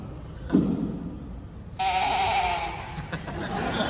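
An antique sheep sound-effect device from around 1902 gives a nasal, bleat-like tone lasting about a second, loud and close, over a noisy room.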